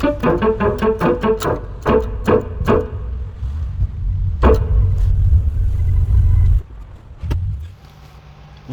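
A yellow MG ZR 120 drives along, its engine rumbling steadily with a series of sharp clicks and knocks early on, then the rumble cuts down and fades low near the end.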